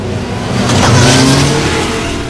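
A car rolls over nuts on a busy city street, its loud engine and tire noise swelling as it passes close by and then easing off.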